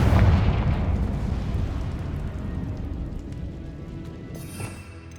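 Confringo fire spell blast in Hogwarts Legacy, a loud booming explosion at the start that rumbles and fades over several seconds, with a small crackle near the end and no talk.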